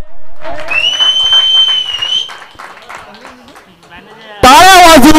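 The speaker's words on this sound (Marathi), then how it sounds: "टाळ्या वाजवून संदेशजींना अभिवादन देण्यात आलेलं आहे" Spectators at a cricket match applaud and cheer a six, the crowd bursting in loudly and suddenly near the end after a stretch of speech.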